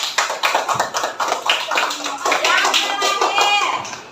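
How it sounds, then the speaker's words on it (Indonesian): Children in an Indonesian classroom clap their hands together in agreement, a close burst of irregular claps mixed with young voices and chatter throughout. "Oke, tepuk tangan kalau sepakat."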